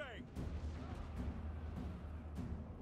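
Cannons fire in a Warhammer Total War battle: four booming artillery shots at roughly half-second to one-second intervals over a low rumbling battlefield din, with a voice faintly present.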